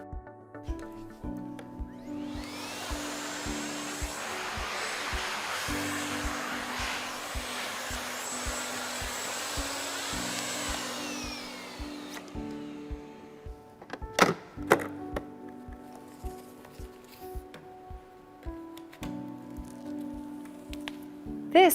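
Miele Complete C3 vacuum cleaner fitted with an upholstery nozzle, run over an armchair: a steady, loud broadband suction roar for about twelve seconds that then winds down, followed by a few thumps and quieter motor hum.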